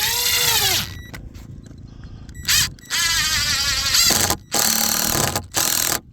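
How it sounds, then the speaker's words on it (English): A cordless screw gun drives screws diagonally into a wooden H-brace on a livestock fence corner in bursts of high whining motor revs, each about a second long, separated by short silent pauses and clicks. "to brace it in here with the screw gun"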